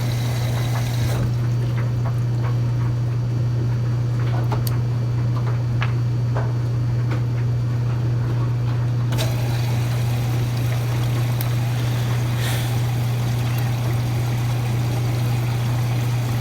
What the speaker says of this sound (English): Of course that makes noise because it fills water for the wash cycle.